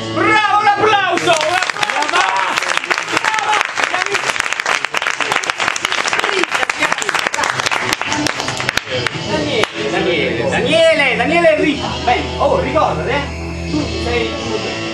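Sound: audience applause

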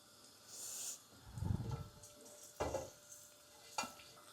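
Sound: pumpkin frying and sizzling in hot oil

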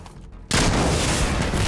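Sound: explosion in a video game

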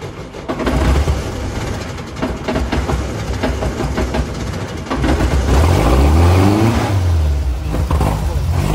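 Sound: car engine revving

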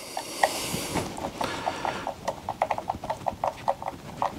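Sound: screwing down screws with a Torx bit driver

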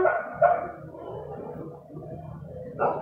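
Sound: dog barking

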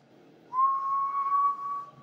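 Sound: whistling into a CB radio microphone

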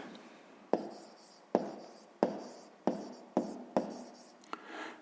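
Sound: writing down the answer

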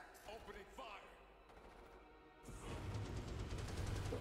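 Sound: gunfire from Starship Troopers: Terran Command video game

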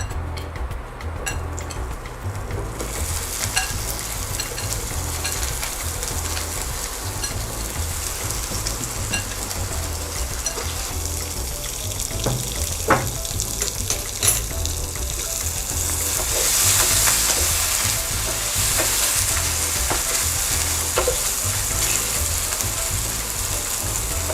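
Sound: egg whites frying in hot oil

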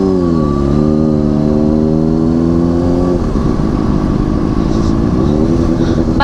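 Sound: Honda CBR superbike engine revving

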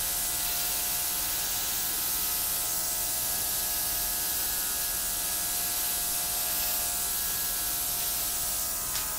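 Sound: airbrush air compressor blowing acrylic paint

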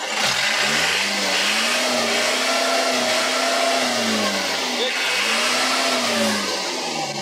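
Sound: truck engine being revved while standing

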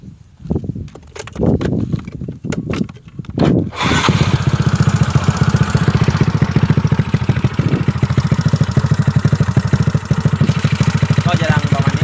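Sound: motorcycle idling with aftermarket exhaust pipe

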